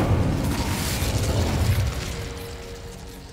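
A fire spell cast in Hogwarts Legacy gives a loud, whooshing burst with a low rumble that holds steady and then fades gradually over a few seconds, with no talking over it.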